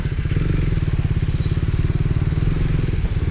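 Close, loud engine note of a KTM Duke 390 motorcycle on a night highway ride, a steady pulsing throb with rumbling wind noise and no talk.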